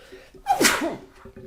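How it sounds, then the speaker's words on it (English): A single loud sneeze bursts out abruptly, close by, preceded by a brief intake of breath and followed by quiet. "Big sneeze"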